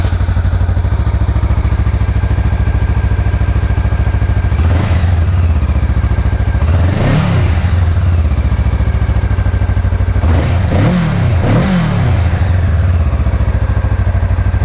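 Honda Rebel 500 motorcycle with its stock exhaust muffler idling steadily, then revved in four throttle blips, two spaced apart and two close together near the end, heard up close with no talk.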